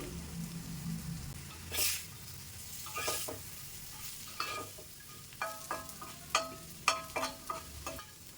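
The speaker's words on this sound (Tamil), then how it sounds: "நம்ம திருப்பி திருப்பி விட்டு ஃப்ரை பண்ணிக்கிட்டே இருக்கணும்" Taro root (arbi) pieces frying in oil until crispy, a soft sizzle broken by repeated scraping and stirring clatters of a spatula that grow sharper toward the end.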